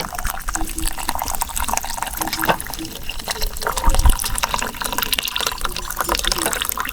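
Hot water poured out at a parked-up campsite by a reservoir dam, giving a continuous splashing, trickling pour under chatter and outdoor noise, with a slightly louder gush partway through.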